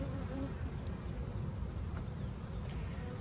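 Honeybees inside a hive in winter, resting on solid winter stores, make a steady, low, dense hum with no break and no talking.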